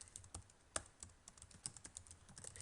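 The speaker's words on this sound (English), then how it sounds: "So in this case, I'm going to input my website." Typing a website address on a computer keyboard: quick, irregular key clicks at close range, fairly quiet, with a slightly louder stroke near the middle and no voices.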